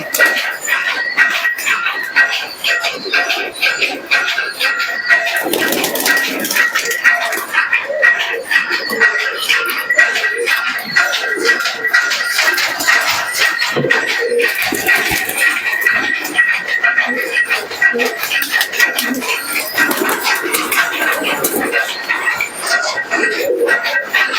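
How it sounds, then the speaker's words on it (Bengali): Pigeons let out of their coop fill the scene with steady soft cooing and low calls, continuous and fairly close throughout with no talking. "প্রথমে আমার বাইরে যেসব কবুতরগুলো আছে সেগুলো ছাড়লাম"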